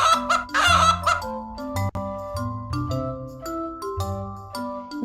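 A farm chicken clucks in short repeated bursts, close and fairly loud, over a bright backing of children's music.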